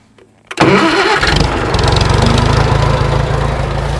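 A small engine, used on a sweet potato digging job, cranks briefly then catches and settles into a loud, steady, close running rumble with no talking.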